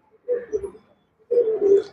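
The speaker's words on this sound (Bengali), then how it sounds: "এই দুটো এটা একটা মাদি পায়রা ম্যাট্রাস, কালো দানা চোখের পায়রা" A female black-eyed pigeon from Chennai gives two soft, throaty coos, one short and one longer, close by against a quiet background.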